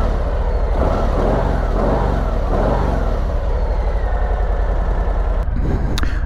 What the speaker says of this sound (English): you've got that classic Harley sound